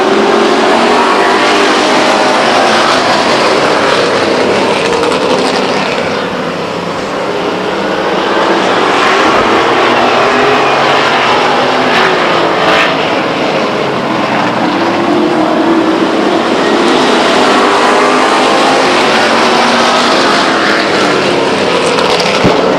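Stock cars race at Stockton 99 Speedway, their engines a loud, continuous roar that swells and dips slightly as the pack passes, with no voices over it.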